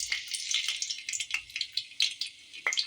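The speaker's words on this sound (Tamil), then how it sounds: "எண்ணெய் சூடாயிடுச்சு. முதல்ல பூண்டு போட்டுக்கலாம்." Garlic tossed into hot oil in a pan for egg fried rice crackles and sizzles up close, with a steady hiss broken by sharp popping bursts and faint stirring scrapes.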